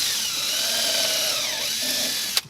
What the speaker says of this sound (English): Pre-drill that.